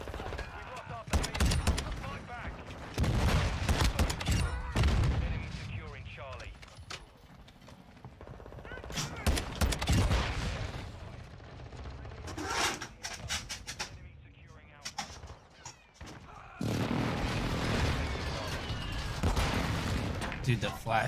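Gunfire in the Modern Warfare II video game, bursts of shots and rapid automatic fire in loud clusters with quieter gaps between them, while players talk throughout.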